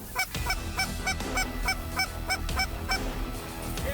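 Canada geese honking in a rhythmic series of about a dozen clear, nasal calls, fairly close, over a low background rumble with no talk.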